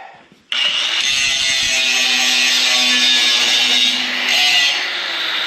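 A power grinder sharpening a snow plow blade starts abruptly and runs as one loud, steady, harsh grinding whine for about five seconds, easing slightly toward the end, with no talk over it.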